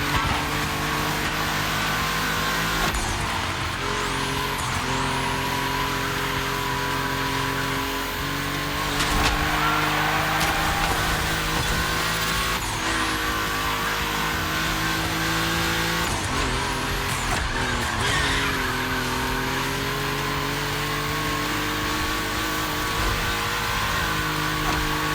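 Volkswagen cars racing in The Crew Motorfest, engines droning and revving steadily for the whole stretch with gear shifts and occasional tire squeal, loud and close with no talk.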